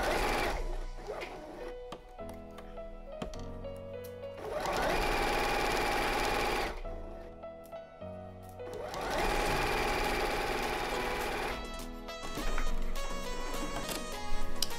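Sewing machine stitching seams on a fabric strap, running in two long bursts of steady, fast mechanical clatter with short stops and starts between them, close and alone with no talk.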